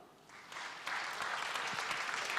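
Audience at a music festival concert breaking into applause, the clapping starting softly and swelling into a steady, dense patter of many hands in a hall.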